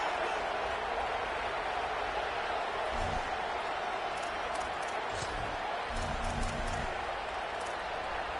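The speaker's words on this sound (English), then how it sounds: "This crowd bringing the energy and noise early." Football stadium crowd at a college football game, a steady broad roar of many voices filling the stands, loud and continuous throughout with brief swells of cheering.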